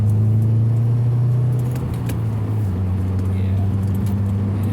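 A 2018 Subaru WRX creeps through Interstate 95 traffic near Washington, D.C., its steady low engine and road hum loud inside the cabin, with a slight shift in tone partway through.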